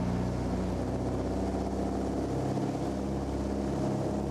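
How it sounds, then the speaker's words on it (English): Vintage propeller aircraft engines revving hard on the takeoff roll, a loud continuous throbbing drone with steady rumble and no voices. "You can hear the sound of the engines now as they rev right up, and this is a takeoff roll."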